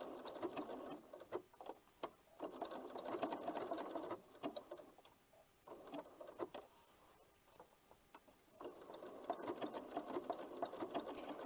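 A domestic sewing machine stitches a blanket stitch along a fabric applique edge, a fast close mechanical patter that runs in bursts with brief slowdowns and pauses, and no talking.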